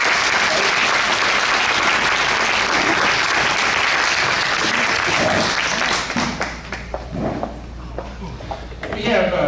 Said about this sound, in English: So let's give her another hand of applause.